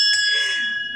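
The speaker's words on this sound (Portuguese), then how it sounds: "eu toco o sino 10 vezes" A single bell struck once, a bright ringing tone with sharp attack and clear sustained overtones that decay slowly over about a second, loud and alone.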